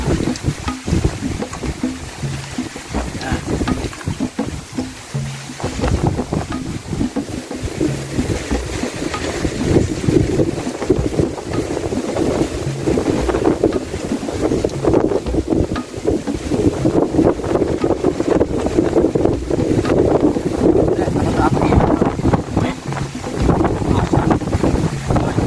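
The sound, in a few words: strong wind blowing into the microphone outdoors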